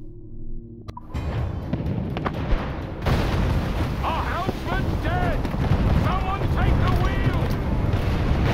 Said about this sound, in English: Firing cannons.